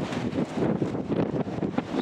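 Strong gusts from Storm Pia roar across an outdoor microphone in Bempton, Yorkshire, buffeting loudly in uneven surges with no talking.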